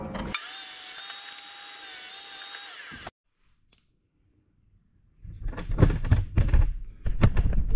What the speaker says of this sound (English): I'm going to taper cut them on my compound miter saw